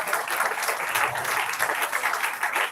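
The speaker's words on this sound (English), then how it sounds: "let's give them a big round of applause once again" An audience at an entrepreneurship development cell live session on angel investment and VC funding applauds in a steady, even wash of clapping that lasts the whole few seconds with no talk.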